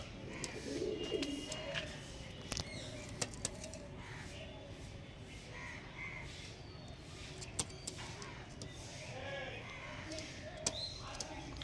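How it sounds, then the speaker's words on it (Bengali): Pigeons coo softly in low repeated calls amid background noise and scattered sharp clicks, with faint talking now and then. "বহুত ওল্ড জেনারেশনের পায়রা এরম পায়রা এখন খুব কম লোকের ঘরে আছে"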